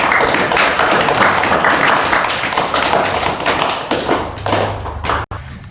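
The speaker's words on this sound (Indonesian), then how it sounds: "Tepuk tangan untuk kelompok." A classroom group gets a round of applause: steady, dense hand clapping from many people, loud and close, running unbroken for several seconds before cutting off abruptly near the end.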